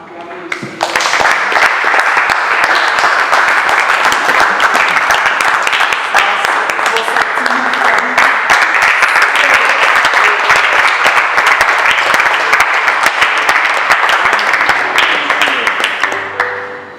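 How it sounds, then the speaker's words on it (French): An audience at a couples retreat testimony session bursts into loud, sustained applause. The clapping starts abruptly, holds dense and even for about fifteen seconds, then tapers off at the end. "on va acclamer ici"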